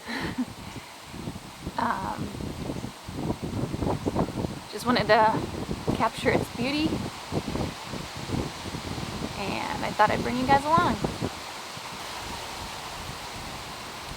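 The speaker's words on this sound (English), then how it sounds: "So it is really windy today." Someone speaks over wind that rumbles and rustles against the microphone in uneven gusts, continuing after her voice stops.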